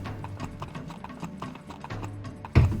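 Horses in the Heroes 3 video game, a quick run of clip-clopping hoofbeats in a steady rhythm, fairly faint, ending in a louder thump, with no voices.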